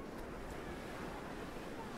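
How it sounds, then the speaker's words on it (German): Strong wind blowing at the seashore, with steady broadband rushing and surf-like noise buffeting the microphone throughout, no clear speech. "aber langsam wird der Wind jetzt echt stark"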